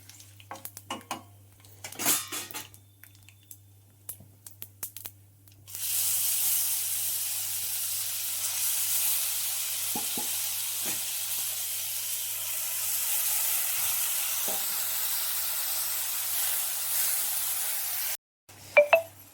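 Drumstick leaves with turmeric hitting hot oil in a pan, a few scattered clinks and scrapes first, then a sudden loud sustained sizzle that hisses evenly for about twelve seconds before cutting off, followed by a brief clatter.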